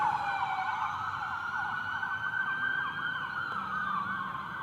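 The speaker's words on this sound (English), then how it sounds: "That was a police car." A police car siren wails steadily at moderate distance outdoors at night, its continuous rising and falling tone sustained throughout without talk.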